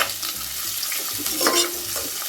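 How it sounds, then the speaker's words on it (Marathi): Sliced onion sautéing in a pan with curry leaves makes a dense, close sizzle with faint scraping as it is stirred, steady and fairly loud, no talking. "आता कांदा परतून घेते"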